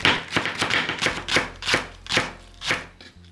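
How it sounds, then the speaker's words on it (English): A kitchen knife chops green onions into rounds on a cutting board, about a dozen crisp, evenly spaced strikes close up with no talking. "Cut the green onions into rounds for the final serving."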